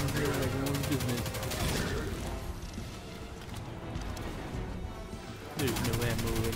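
Rapid gunfire from a sparking chain gun in Destiny 2, dense and sustained throughout, with a brief lull near the end before the firing resumes over game music.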